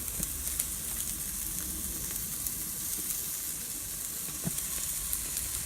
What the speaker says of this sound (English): You've got a nice sizzle there going.